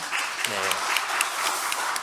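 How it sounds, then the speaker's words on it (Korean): A church congregation applauds the choir at an Easter Sunday service, a steady wash of clapping filling the space, with a brief voice rising over it partway through. "우리 감사한 마음으로 다시 한번 박수를 좀 예,"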